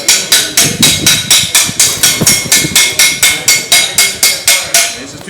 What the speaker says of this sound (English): This hammer is too sharp for this operation